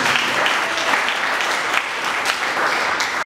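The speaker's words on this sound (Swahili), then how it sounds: "Mpigie Yesu makofi ya kutosha." A church congregation applauding for Jesus during a sermon, a dense, loud burst of many hands clapping together that holds steady for a few seconds before stopping abruptly.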